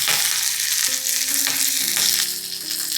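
Green chillies and cumin sizzle in a small tempering of hot mustard oil for sol kadhi, a steady close frying hiss with a few soft stirring clicks and no voices throughout.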